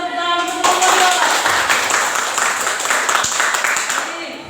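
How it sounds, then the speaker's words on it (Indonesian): A classroom audience claps for a student group, producing dense, loud clapping that starts abruptly and continues steadily for several seconds, with voices mixed in. "Berikan tepuk tangan untuk kelompok 2."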